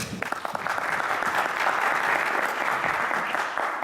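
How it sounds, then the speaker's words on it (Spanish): Audience applause welcoming invited speakers at an academic talk on cryogenics and low temperatures, a dense steady wash of many hands clapping throughout, fairly close and even in loudness, with no talk over it. "recibámoslos con un aplauso"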